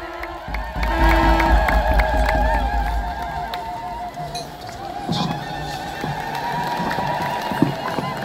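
A large church congregation at an Ethiopian Orthodox celebration ululates loudly and claps together, the shrill trilling voices dense and sustained near the listener for several seconds before easing off.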